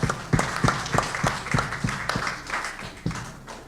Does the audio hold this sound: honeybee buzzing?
no